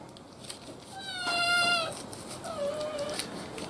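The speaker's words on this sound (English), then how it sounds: "Cat came in to see what's going on." A house cat meows several times as it wanders into a kitchen where beef tenderloin is being prepared, with a drawn-out, rising cry in the middle and a shorter, fainter meow after it, over quiet room noise.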